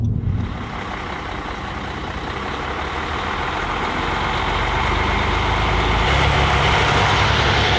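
A truck rig's engine running close by, a loud steady low rumble that swells gradually over several seconds with a faint higher tone riding on top.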